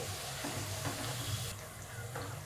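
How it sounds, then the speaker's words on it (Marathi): Masala shankarpali frying in oil, a soft continuous sizzle and bubbling close by with a few brief clinks, quiet and steady with no talking. "झाले आता एवढं तळून घेते"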